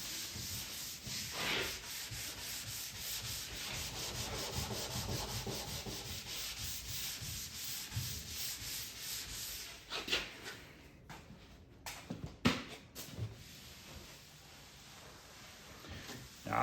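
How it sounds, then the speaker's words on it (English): Steady abrasive rubbing of a Scotch-Brite pad over an arcade cabinet surface during a restoration, continuous scrubbing strokes close up for about ten seconds, then thinning into a few scattered scuffs and knocks. "we sanded it with the Scotch-Brite pad"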